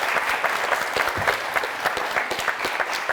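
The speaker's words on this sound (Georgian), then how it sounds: "სანამ ანგარიშს ვითხოვდე ორივე გუნდს ხურვალი აპლოდისმენტები გთხოვთ." Audience at a student quiz semifinal applauding both teams, a lively patter of individual claps with sharp distinct hits, fairly close, with no talk over it.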